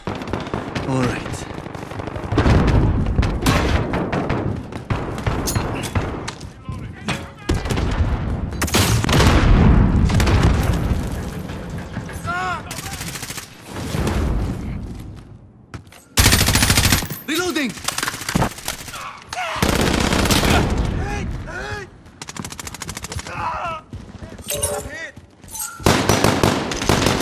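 Loud, dense automatic gunfire and booming explosions from an online match of Call of Duty Modern Warfare, in long sustained bursts with brief lulls and occasional voices over the shooting.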